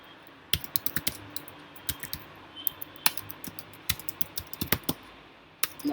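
Code is typed on a computer keyboard while programming in Xcode, with quiet irregular key clicks in short bursts and scattered taps, close and crisp against a near-silent room.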